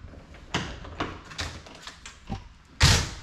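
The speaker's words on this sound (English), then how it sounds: "So I'm gonna open up the door now." The entry door of a 2021 Grand Design Imagine 2500 RV is handled and opened, giving a series of separate clicks and thumps that end in one louder bang.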